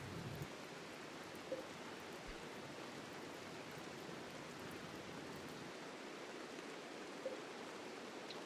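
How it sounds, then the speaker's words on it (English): Steady rainfall in the Tribal Survival video game, a dense even hiss that lasts the whole stretch at low volume with no talking. "So it started to rain."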